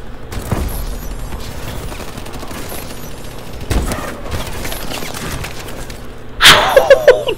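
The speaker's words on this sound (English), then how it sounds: "I'm using the sniper" Sniper rifle fire in a first-person shooter video game: scattered booming shots and mechanical clatter, ending in a loud burst of rapid blasts with a sharp metallic ring.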